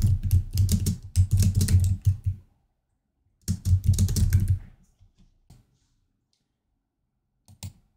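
Rapid typing on a computer keyboard, close and crisp, comes in two dense bursts of clicking separated by a pause. A few scattered keystrokes follow, ending with a final short tap.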